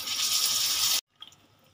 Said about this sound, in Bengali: দিয়ে দিয়েছি পরিমাণ মতন জল।